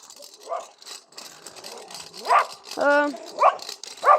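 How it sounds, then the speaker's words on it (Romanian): A dog barks outdoors during a walk, giving several short, sharp barks spaced a second or so apart, loud and fairly close, with a voice talking faintly in between. "E un câine aici și mă enervează."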